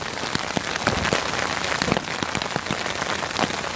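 Steady rain falls at a campsite with constant patter and scattered sharper drops striking nearby surfaces, with no voices.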